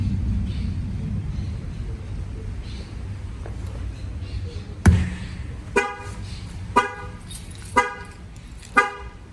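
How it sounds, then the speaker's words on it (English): A Chevy Colorado alarm set off by its shock sensor, sounding a series of loud, evenly spaced horn honks after a sharp impact thump, close by with a quiet outdoor background. "That will fire off the alarm."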